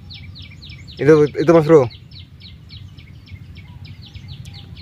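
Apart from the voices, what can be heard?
local zebra dove (perkutut) calling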